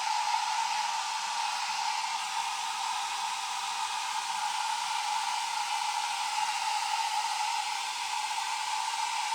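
A hair dryer blows air with a steady, even whoosh and a constant motor whine. It is heard alone, used while working with rice paper on a bottle.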